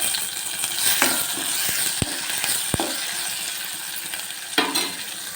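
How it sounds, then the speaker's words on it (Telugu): Chopped onions and tomato sauté in a pan for carrot rasam, giving a steady, close sizzle punctuated by a few sharp clacks of a spoon striking the pan as the mixture is stirred. "ఇప్పుడు టమాటా కూడా వేసేసి కొద్దిసేపు మగ్గనివ్వాలి"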